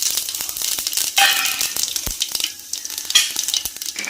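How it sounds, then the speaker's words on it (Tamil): Fennel seeds dropped into about 100 ml of hot refined oil for chicken biryani, a bright crackling sizzle with sharp pops and clicks of a utensil against the pan, close by and without speech. "எண்ணெய் நல்லா காஞ்சிட்டோடனே ஃபர்ஸ்ட் சோம்பு போட்டுப்போமா?"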